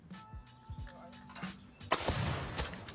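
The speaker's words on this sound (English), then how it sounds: "So we have a gentleman posted up here shooting at something downrange full of tannerite" A rifle shot sets off a tannerite-filled target downrange, a sharp loud blast near the two-second mark followed by a sustained rumbling wash, with fainter earlier pops and some background noise.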